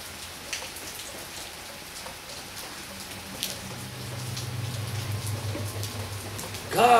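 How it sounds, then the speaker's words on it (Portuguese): Heavy rain pours steadily outdoors at night, a dense continuous hiss of drops on surfaces, with a low rumble building toward the end and a sharp louder noise at the very close. "Tá chovendo bastante aqui"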